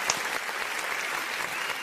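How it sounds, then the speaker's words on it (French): An audience at an apostasy day event claps in a continuous, moderately loud burst of applause with no clear pauses. "peut les faire, les applaudissements, nous"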